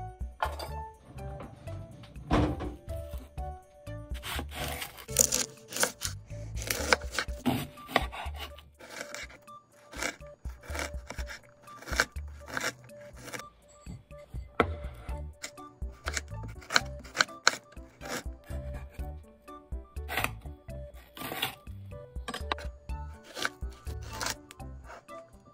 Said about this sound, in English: I'm gonna chop the onion.